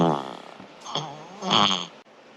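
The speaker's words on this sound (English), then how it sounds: "Shark farts are in the Extreme Farts pack." Shark fart sound effect played by Alexa: a low, buzzy, sputtering blast in two or three swelling pulses, loud and close, with no talking.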